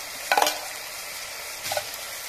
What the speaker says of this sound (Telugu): 1/2 టీ స్పూన్ జీలకర్ర పొడి వేసుకొని ఈ విధంగా కలుపుకోవాలి.